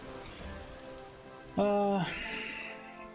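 Rain in the video game Vintage Story patters steadily as a soft, even hiss throughout, with a brief voice breaking in midway.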